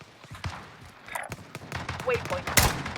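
Rapid gunfire from a Type 63 DMR in Call of Duty: Warzone, several sharp shots in quick bursts that build toward a louder cluster near the end, with faint game sounds mixed in.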